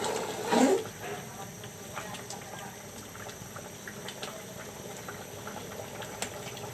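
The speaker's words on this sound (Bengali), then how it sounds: "লাউ তরকারিটা বলক উঠে গেছে" Bottle gourd curry cooked with hilsa fish bones bubbling in a covered pot, a steady soft simmer with one louder burst of bubbling near the start, fairly close.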